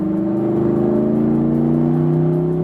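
A 2010 Chevrolet Camaro SS V8 engine drones loudly and steadily at high revs, heard close from inside the car with a smooth, sustained pitch that rises slightly, with no talking.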